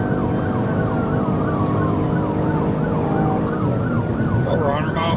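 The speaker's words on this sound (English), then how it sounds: "he turns on his emergency lights and his siren" A police car's wailing siren on an Orlando officer's dash cam recording, rising and falling steadily throughout over a constant loud road and engine roar during a high-speed pursuit.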